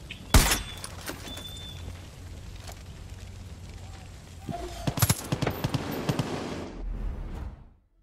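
Gunfire in Far Cry 5 aimed at the player, with a sharp loud burst near the start, scattered impacts, then a cluster of rapid shots and crackling later on, all over steady low game rumble and an explosion-like swell near the end.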